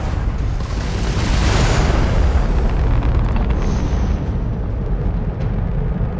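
Weapons fire from a Crimson Fleet ship in the video game Starfield makes a loud, continuous rumbling barrage of blasts and booms lasting several seconds, with no talking.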